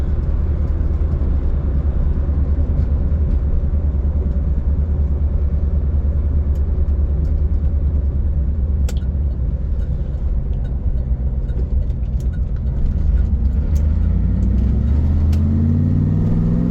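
A 1995 Chevrolet Camaro Z28 with a six-speed manual gives a steady, loud low engine drone and road rumble while driving, rising in pitch toward the end as it accelerates.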